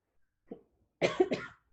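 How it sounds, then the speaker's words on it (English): A faint short cough into a face mask, then a stronger double cough, muffled and close, with silence around it. "Last cough into the mask."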